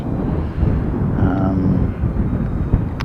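A Qantas airliner, flight 192, departs for Sydney: a broad, steady jet roar fills the scene from start to finish, with a faint higher whine drifting across the middle and a gusty, wind-buffeted rumble underneath.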